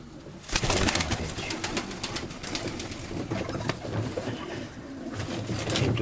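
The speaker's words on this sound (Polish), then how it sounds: "Proszę zobaczyć. Młody gołąb." A young pigeon in a racing-pigeon loft coos close by in soft, repeated throaty rolls over a busy background of other birds, with no talking.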